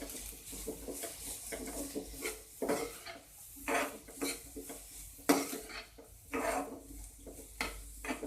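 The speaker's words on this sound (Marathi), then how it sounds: "हे सगळं व्यवस्थित मिक्स करून घ्यायचं." A spoon scrapes and clatters against a pan while sprouted moong sabji is stirred and mixed, irregular close metallic knocks and scraping strokes with no speech.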